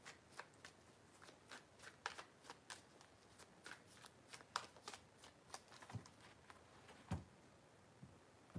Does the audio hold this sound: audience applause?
no